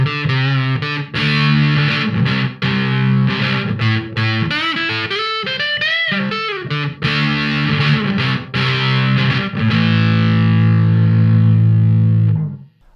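An electric guitar plays through a fuzz pedal on its humbucker pickup, with thick saturated riffs, quick bends and a long sustained chord ringing out at the end, loud and with no talking.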